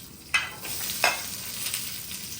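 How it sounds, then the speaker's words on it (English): Onions go into a little reheated oil in a pan for pepper steak, giving a steady close hiss with two sharp bursts as they land and get moved about, and no voices. "Just a little bit of oil. Heat it back up. Putting in the onions"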